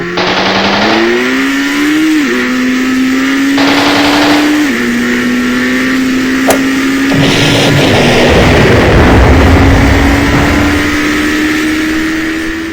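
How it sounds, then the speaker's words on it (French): Motorcycle chase in a film: a loud engine whine rising steadily in pitch through gear changes, with bursts of rapid gunfire-like crackle and heavy rumbling layered over it, continuous and close throughout. "une course-poursuite en moto"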